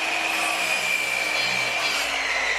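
Power saw cutting wooden trim pieces to length in a workshop, a steady continuous whine with a sustained high tone and broadband hiss, loud and close, running unbroken without speech.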